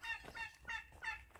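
Turkey gobbles at a pension in Tongyeong, three rapid warbling bursts close by and fairly faint, with no talk over them.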